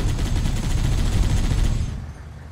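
Sustained automatic gunfire in the first-person shooter Halo: Combat Evolved, a fast rattling burst of loud shots that cuts off near the end.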